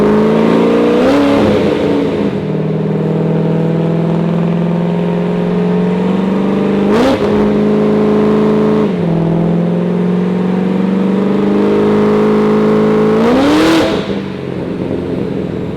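A procharged 427 C5 Corvette engine revs hard on a dyno, loud and close, with a steady high-rpm drone broken by several sharp throttle blips and surges, no talking.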